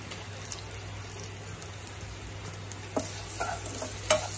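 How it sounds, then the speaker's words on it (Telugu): Jowar flakes are stirred with salt in a pan, giving soft, faint scrapes and light clicks over a quiet, low hum, growing a little busier toward the end. "బాగా కలుపుకోవాలి."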